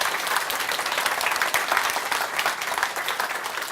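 A steady wash of applause fills a rural community summit hall as the audience claps for the district council, dense and even throughout without a break.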